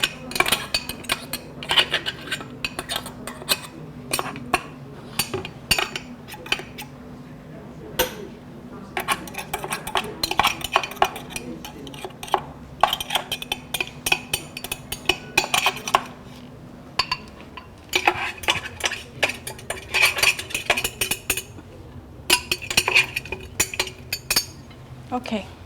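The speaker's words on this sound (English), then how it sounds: "let me try and scoop out everything again" A utensil scoops and scrapes cake mixture out of a blender jar during Christmas baking, giving close, irregular clinks and scrapes against the jar in short bursts with brief pauses.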